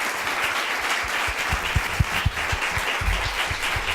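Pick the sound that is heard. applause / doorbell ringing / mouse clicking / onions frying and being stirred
applause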